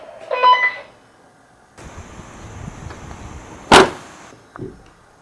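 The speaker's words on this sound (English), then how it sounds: "Okay, car door. Shot number 1." A car door shut once from outside, heard as a single sharp, loud slam standing out against low background noise, with a quieter thump shortly after.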